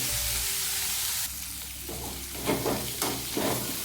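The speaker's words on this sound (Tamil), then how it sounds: "வெங்காயம் நல்லா வதக்கிட்டோம்" Onions sauté in a pan for a cabbage poriyal, a soft steady sizzle with a few louder stirring scrapes in the second half, close and with no talking.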